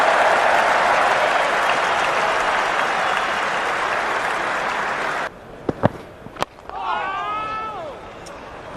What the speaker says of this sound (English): Good cricket, crowd are loving it.